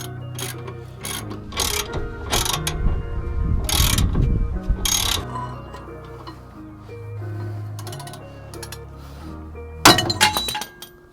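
A worn tie rod ball joint on a Mercedes-Benz W124 is forced out under a separator tool, giving several loud sharp metallic cracks and clinks amid ratcheting and tool clatter, with a final sharp pop near the end.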